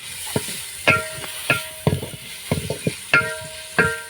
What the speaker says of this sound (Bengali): ঘি দিয়ে দিলাম, তেজপাতা, তারপরে দিলাম পেঁয়াজ